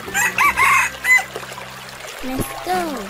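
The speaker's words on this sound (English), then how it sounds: "Chicken." Cartoon-style chicken crowing and clucking in a lively children's animal transformation cartoon, with several bright squawking calls early on followed by a falling and rising cluck-like call near the end, loud and close over background music.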